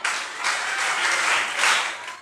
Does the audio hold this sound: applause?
yes